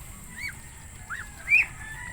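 Several soft clucks and chirps from Brahma chickens at a moderate distance, spaced irregularly, with the last one slightly louder, over a low steady background hum.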